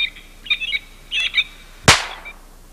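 A single sharp gunshot cracks loudly outdoors, fired at birds, following a few brief high chirps and whistles from the birds, then a faint bird call afterward.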